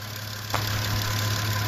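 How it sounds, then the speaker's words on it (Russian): A Porsche Cayenne or VW Touareg engine with a new belt tensioner pulley idles steadily with a low, constant hum and faint rattling, one brief click early on, close and continuous. "Двигатель работает."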